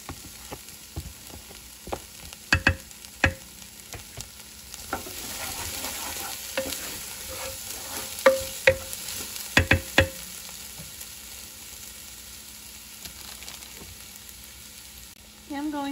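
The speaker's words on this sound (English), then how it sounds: "Going to add 2 coarsely chopped cloves of garlic." Coarsely chopped garlic cloves sizzle in a soup pot for beef barley vegetable soup, a steady frying hiss with a few sharp stirring clanks, close and fairly loud.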